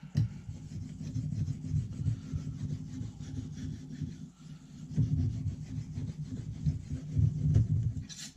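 Knife blade being drawn across a Lansky sharpener stone along the top of the bevel, a soft repeated scraping rasp in steady back-and-forth strokes, close and fairly quiet.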